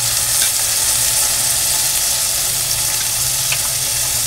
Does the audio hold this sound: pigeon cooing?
no